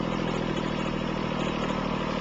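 A Massey Ferguson tractor engine ticks over at idle with a finger bar mower lifted, giving a steady, even low rumble with light mechanical clatter throughout, close and unbroken.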